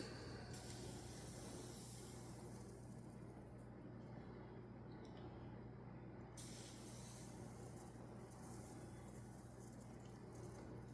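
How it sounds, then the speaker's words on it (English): PB Blaster silicone lubricant sprayed onto a part of a Motorcraft 4300 carburetor during a rebuild, a steady, soft hiss that runs without a break for about eleven seconds with no talking. "So we spray some silicone on this one."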